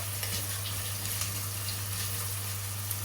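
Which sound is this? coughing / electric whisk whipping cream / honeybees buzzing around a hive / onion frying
onion frying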